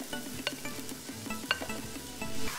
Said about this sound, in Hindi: तेज आंच पे 2 से 3 मिनट फ्राई करना है, ज्यादा नहीं।